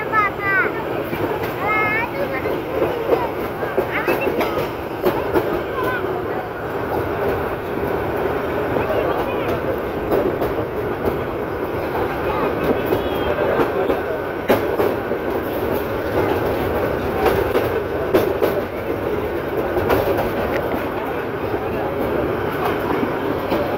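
A local passenger train from Bhairab to Akhaura rumbles steadily on a curve as it slowly gains speed, with continuous loud wheel-and-rail noise and faint clickety-clack throughout.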